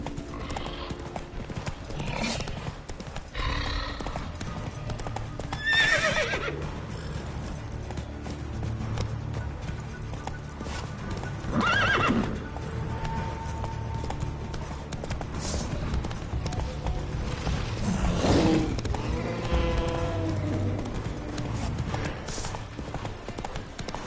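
Horse hooves clip-clop at a steady galloping rhythm in The Witcher 3 video game, with occasional neighs and game ambience underneath, loud and close throughout.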